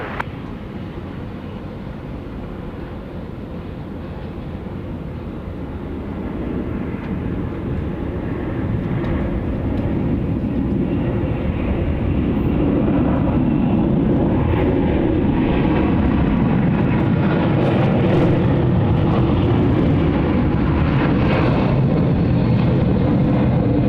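Airliner landing on runway 34 left at Sydney Airport, a broad continuous engine roar that swells and grows louder over several seconds, then holds steady and close.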